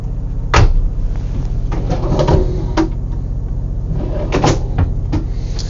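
A few wooden knocks and sliding thumps of a small drawer being opened and shut nearby in a 2021 Renegade 45 Classic motorhome, over a steady low hum, with no talking.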